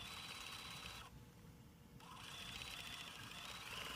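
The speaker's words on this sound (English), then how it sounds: "stitch right around this applique shape with a straight stitch using my free motion foot" A sewing machine running steadily with a free-motion foot, straight-stitching around a puffy trapunto applique shape on a quilt, with a brief drop in the whirring partway through before it resumes at a constant hum.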